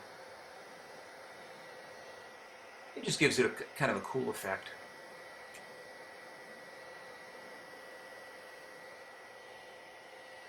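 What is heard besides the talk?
hair dryer blowing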